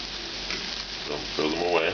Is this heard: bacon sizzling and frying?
yes